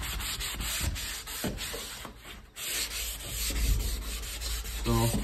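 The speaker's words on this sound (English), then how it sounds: "So that completes the sanding on this portion of the door." A door is sanded in preparation for paint, a close, loud abrasive rasping with rhythmic back-and-forth strokes that pause briefly midway and then resume.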